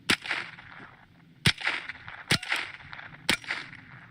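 AR-15 rifle fired at a range: four sharp, loud single shots spaced about a second apart, each a hard crack with a brief ringing tail, no talk.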